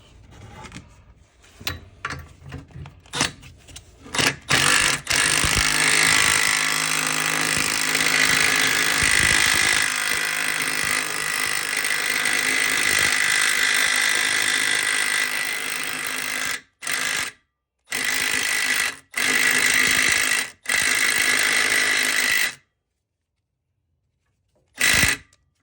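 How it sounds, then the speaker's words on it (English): Impact wrench hammering a nut onto a newly installed wheel stud on a 2001-2006 Honda CR-V, a loud, dense mechanical rattle running for long stretches, then a few short bursts broken by brief pauses. "then we hammer it the rest of the way with our impact"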